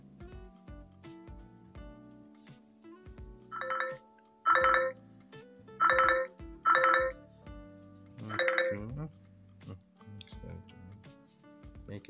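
Ringtone from a UMIDIGI Bison phone running Android 12, a melodic electronic chime in five or six short bursts that get louder across the middle of the clip, with quieter tones before and after.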